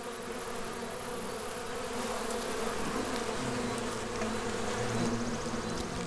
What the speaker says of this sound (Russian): На этот раз он противостоит целому рою пчел.